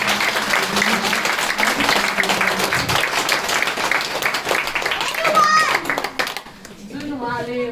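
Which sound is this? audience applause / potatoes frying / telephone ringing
audience applause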